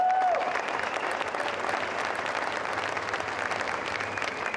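Audience applause for a stage performance at a tattoo convention, a dense, steady wash of clapping that holds loud and even throughout, with no talk over it.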